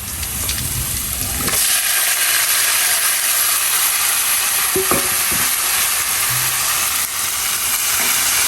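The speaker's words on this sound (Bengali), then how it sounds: "এবার আমি শাকগুলো দিয়ে দেবো" Fresh leafy greens drop into hot oil with frying onion, chilli and garlic, starting a loud, steady, close sizzle after a brief clatter that holds for several seconds, with occasional spoon clicks and no voices.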